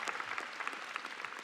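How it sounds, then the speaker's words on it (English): A high school commencement audience claps together in a large hall, a dense, even patter of many hands heard from a distance, fairly quiet and without talk. "Yeah, you guys can clap."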